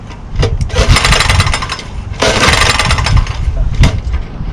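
Lawn mower engine being started on choke after sitting unused: two loud pull-cord cranking bursts, each sputtering briefly without catching, recorded close up.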